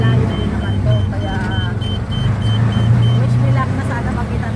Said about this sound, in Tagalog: sumakay na lang ako ng tricycle kasi medyo malayo din naman to